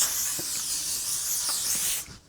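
A continuous fine hiss of L'Oreal Infallible 3-Second Setting Mist spraying from a pump bottle, loud and close, lasting about two seconds before cutting off.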